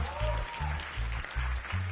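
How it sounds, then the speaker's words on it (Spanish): A crowd at a concert applauds over a pulsing bass beat that repeats in even thumps, with a voice also present in the mix. "Un aplauso para él."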